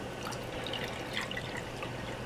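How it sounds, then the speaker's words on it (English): Soft, continuous trickle of two cups of filtered water pouring into a pan, with light splashy drips, fairly quiet and close. "2 cups of filtered water, and I'm just going to put that in my pan"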